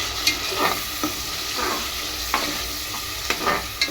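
Masala tempering bubbling in hot oil, a steady close sizzle broken by several sharp scraping stirs of a spoon in the pan, with no voices.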